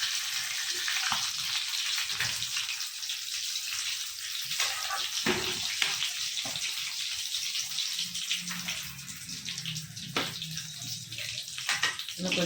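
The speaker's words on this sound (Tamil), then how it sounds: "ஒவ்வொன்றா இப்படி போட்டு நம்ம எல்லாத்தையும் பொரிச்சு எடுத்துக்கலாம்." Chicken bonda balls deep frying in hot oil give a dense, continuous bubbling hiss, close and fairly loud, broken by occasional clinks and stirring sounds, with no talking.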